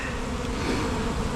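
Bees in a bin swarm with a dense, continuous buzz during a hive removal, loud and close with no break in the droning.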